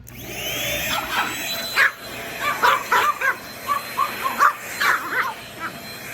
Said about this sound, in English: I vacuumed yesterday, I'm vacuuming it today